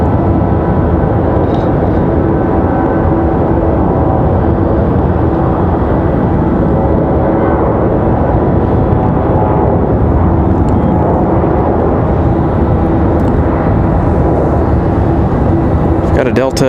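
An Air Canada Airbus A320 departs from Raleigh-Durham airport, a loud continuous engine roar and rumble sustained throughout, with wind-like noise and no clear voices.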